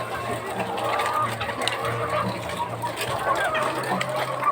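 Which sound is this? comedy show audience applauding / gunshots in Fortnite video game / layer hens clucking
layer hens clucking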